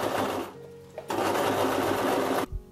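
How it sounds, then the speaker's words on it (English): Close, loud whir of a sewing machine topstitching along the edge of a backpack pocket made from a jacket, running in two bursts with a brief pause between them and stopping near the end. "what I'm going to do is do a top stitch on the very edge all the way around to secure that in place"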